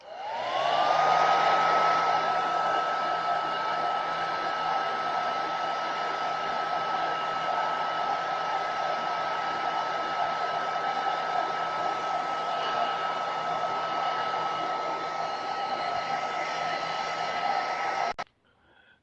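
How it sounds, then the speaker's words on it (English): Hair dryer blowing hot air onto an iPhone 6/6s battery during a battery replacement, a loud steady whir that spins up at the start and runs continuously for about eighteen seconds before cutting off abruptly. "Now I will make it heat up somehow with the hair dryer."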